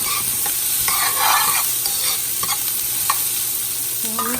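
Onions frying in a pan for a cabbage dish, a loud, close, continuous sizzle with occasional stirring scrapes and small clicks, no talking.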